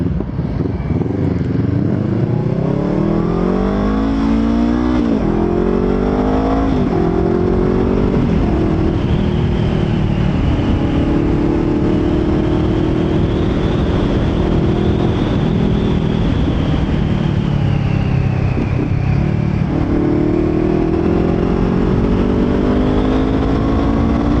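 A Honda CBR500R motorcycle fitted with a muffler accelerates steadily, its engine note climbing and dropping through gear changes. The sound is loud and close throughout, with constant wind rush over it.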